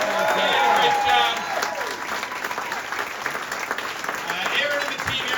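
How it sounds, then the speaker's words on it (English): An audience at a live stand-up comedy show in Kamloops, British Columbia, gives a sustained round of applause, dense clapping with some cheering as a voice speaks over it. "let's hear a round of applause for everyone who saw tonight"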